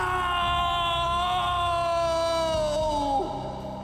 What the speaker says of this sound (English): That painful scream almost sounds as distraught as Agent Reed.